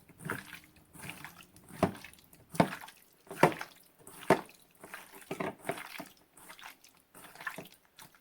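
Hands mix salted raw pork pieces in a bowl, giving wet, squelchy slaps and sloshes in an uneven steady rhythm, close and moderately loud, with no talk.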